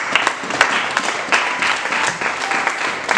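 A church congregation breaks into sustained applause during a French-language sermon, a dense, even wash of many hands clapping with a few sharper bursts, continuous and fairly loud throughout.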